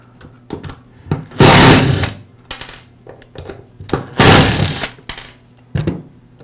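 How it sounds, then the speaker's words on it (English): Two screws backed out of the cord clamp on a DeWALT angle grinder: two short, loud whirring bursts from a driver, each framed by sharp clicks and rattles of small parts on the bench. "Now remove the 2 screws that hold the cord clamp in place"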